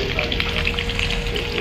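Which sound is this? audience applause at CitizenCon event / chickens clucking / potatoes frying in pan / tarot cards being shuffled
potatoes frying in pan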